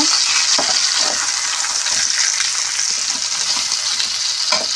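Chicken pieces, already fried, sizzle loudly in a pan of onions and bay leaf for chicken biryani while being stirred. Steady hissing frying runs throughout, with scraping stir strokes recurring close by.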